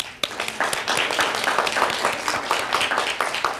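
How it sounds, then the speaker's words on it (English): A school auditorium audience at a National Honor Society induction ceremony claps steadily throughout, a dense, continuous wash of many hands at moderate volume with no talking over it. "So we applaud you again."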